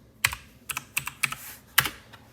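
Stock ticker letters typed on a computer keyboard: about six crisp, close key clicks at an uneven pace over a couple of seconds, with no talking.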